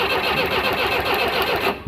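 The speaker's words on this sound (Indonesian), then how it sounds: "kita starter" Toyota Kijang 12R engine cranking on its starter motor, a loud steady churning whir held for nearly two seconds before cutting off abruptly.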